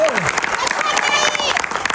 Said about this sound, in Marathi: त्यांच्यासाठी प्लीज एकदा टाळ्या होऊन जाऊ द्या.